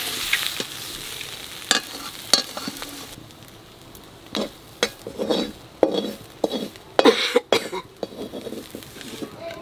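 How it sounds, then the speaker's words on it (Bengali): Gatkol leafy greens frying in a wok give off a soft, steady sizzle, broken by sharp scrapes and clatters of stirring and a cough or two, close by. "শাক ভাজা হয়ে গেছে"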